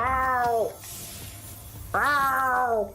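A voice imitates a wailing cat, giving two loud, close, drawn-out yowling cries separated by a short pause.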